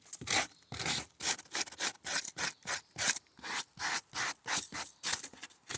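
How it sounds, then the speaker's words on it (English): Rhythmic rasping strokes of a sanding block rubbed back and forth across wood, about a dozen quick, even passes, close and clear with no talking. "I found that they look a little bit better if I just take this sanding block"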